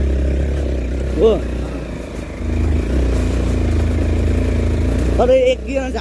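A motorcycle climbs a rough, potholed uphill road after shifting down a gear, its engine holding a steady, close drone throughout while people talk over it.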